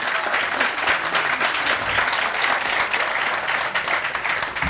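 An audience claps steadily at a teen center grand opening, dense applause filling the whole stretch without pause.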